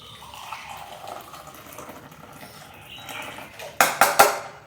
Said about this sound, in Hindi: तो चलो पापा को चाय देती हूँ और अपनी चाय निकालती हूँ।